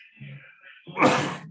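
A man sneezes once at close range, a short gasping intake followed by a sharp, loud burst of breath that fades quickly.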